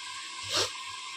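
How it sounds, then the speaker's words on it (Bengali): Mixed vegetables frying covered on a high flame, a steady broadband sizzling hiss with one brief swelling surge in the middle, heard alone without voices. "এবার এটা হাই ফ্লেমে ঢাকনা দিয়ে ভাজতে দেবো"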